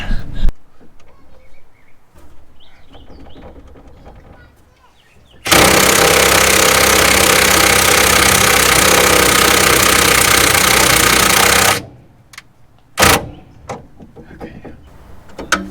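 An old VW Rabbit pickup engine, a barn find that sat for 25 years, runs loud and rough for about six seconds with a slight misfire, framed by quieter shop noise and brief knocks before and after.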